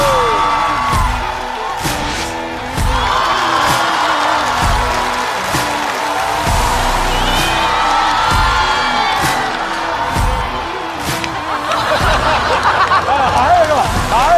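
A studio audience at a stand-up comedy show cheers and whoops as comedians come on stage, with crowd noise, laughter and shouts throughout and rhythmic thumping beats underneath, swelling louder toward the end.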